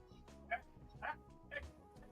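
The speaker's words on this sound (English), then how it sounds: "My dogs are going crazy." Dogs bark in three quick sharp yaps, about half a second apart, sounding faint and somewhat distant, as if from behind a door in another room.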